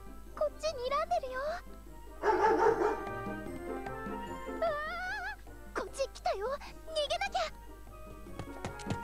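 A dog barks, yips and whimpers in a PS Vita game as it chases the characters, with several sharp barks and bursts of yelping over a low steady hum, loud and close, without spoken voices.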